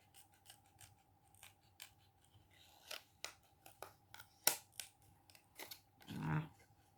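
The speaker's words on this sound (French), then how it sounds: "Des petits ciseaux. Hop. On va essayer de découper ça." Small scissors cut through paper in a run of quiet snips and crisp rustles that grow busier, ending in a louder rustle of paper being handled, close and soft, with no talking.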